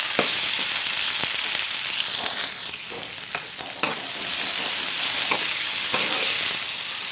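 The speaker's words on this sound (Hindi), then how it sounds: "टिंडे फ्राई करने के लिए हमारा तेल गरम हो चुका है। इसी में मैं इसी को फ्राई कीजिए।" Pieces of tinda (apple gourd) fry in hot oil in a pan, giving a steady close sizzle with occasional clicks and scrapes of stirring, no talk.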